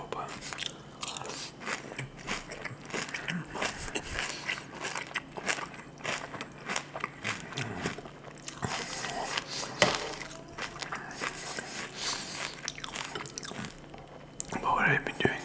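Crunchy cereal eaten close to the mic in a whispered ASMR setting, with irregular crisp bites and chewing crunches running throughout and soft background sounds.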